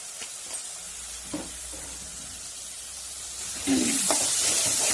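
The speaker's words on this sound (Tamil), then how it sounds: "மசாலா வந்து எண்ணெயில் நல்லா வதங்கணும்" Masala spices of coriander and chilli powder frying in oil with tomato and onion for a catfish curry, a steady soft sizzle and hiss that swells louder near the end with brief stirring scrapes.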